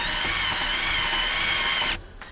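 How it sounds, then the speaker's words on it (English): A power tool whirs steadily while tightening the alternator belt adjuster on a 2001 Toyota Avalon. The close, loud drone runs for about two seconds, then cuts off abruptly into quiet. "this little adjuster down here, we can just tighten that until the alternator comes up nice and snug"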